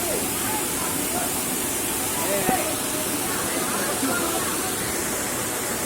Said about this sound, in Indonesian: Air terjun yang kedua.